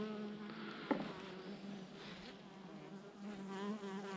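Honey bees buzzing around a swarm being checked in a hive, a faint continuous drone with a brief knock near the start.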